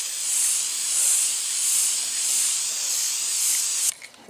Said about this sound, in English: Just using some engine enamel, seems pretty hardy, easy enough to spray